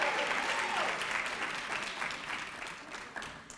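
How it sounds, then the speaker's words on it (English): A crowd at a master's hooding ceremony claps for graduating students, the dense applause starting full and gradually thinning and fading toward the end. "Can we give a round of applause to our students for the College of Education, Humanities, and Behavioral Sciences"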